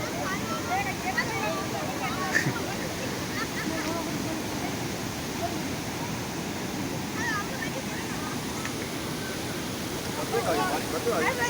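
A powerful waterfall at the Jharneshwar Mahadev temple in Dabun, flowing with great force, gives a steady, dense roar of rushing water that fills the whole stretch without pause. Faint voices are scattered through it.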